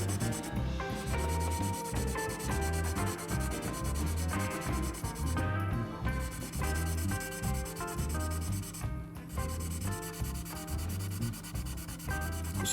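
Hand sanding of a 1/48 Eduard Spitfire Mk I plastic scale model with a sanding stick: steady, close, rhythmic back-and-forth rasping strokes, fairly quiet, with no talking.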